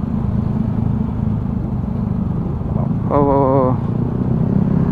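A Yamaha automatic scooter cruises on a long road trip from Surabaya to Sumenep on Madura, a steady loud engine drone mixed with wind rumble. A brief warbling tone cuts in near the end.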